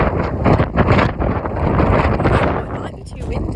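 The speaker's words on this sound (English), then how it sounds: "Oh, but it's windy. It is very windy." Strong wind buffets the microphone outdoors at a horse yard, a loud, continuous roar with gusty swells that briefly eases near the end.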